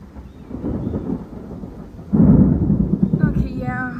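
Thunder rumbles through a thunderstorm with heavy lightning, a low continuous roll that swells into a loud, close crack-and-rumble midway, with rain hiss underneath and a brief voice near the end.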